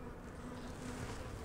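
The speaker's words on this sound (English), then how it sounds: "So lots of bees there." Honey bees from a small swarm buzzing around an open hive during an inspection, a dense, steady drone of many wings close by, continuous and unbroken.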